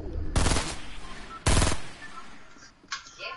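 Gunshots in a video game, two short loud bursts of rapid automatic fire a second apart, followed by fainter distant shots, with quiet game noise in between.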